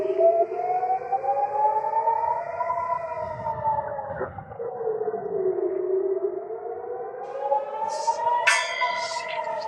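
Air raid rocket warning siren in Israel wailing loudly and continuously, its tone rising and falling slowly, with a few brief knocks and high chirps late on.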